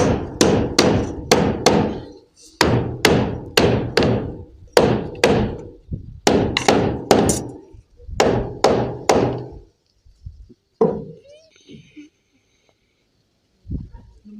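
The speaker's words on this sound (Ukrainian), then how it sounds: "Забивай глибше, просто на железо." Repeated hammer blows drive nails into profiled metal sheet roofing, loud and close in quick rhythmic bursts of several strikes each, with short pauses between bursts and quieter scattered taps at the end.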